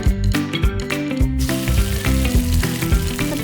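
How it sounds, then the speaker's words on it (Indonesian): Spices sizzle and crackle in hot oil in a wok, a loud, dense frying hiss with sharp pops and scraping stir strokes, close by with no voices. "tumis bumbu sampai harum"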